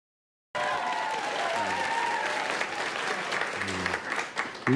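A studio audience at a Korean news talk broadcast breaks into applause, a broad wash of clapping starting abruptly after a brief silence, with a voice or two briefly audible over it.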